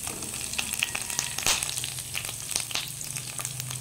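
Onion, garlic and shrimp sauté in a hot pan, a dense close sizzle with crackles and a few louder spits as the food is stirred, no voices.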